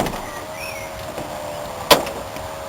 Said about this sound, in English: It's got that little electric lock there, it shuts itself